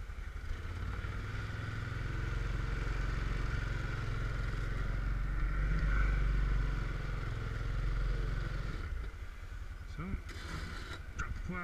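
A Yamaha Rhino 660 UTV fitted with a 66-inch snow plow idles with a loud, steady engine drone close by, then the engine cuts out near the end, leaving brief clatter and faint speech.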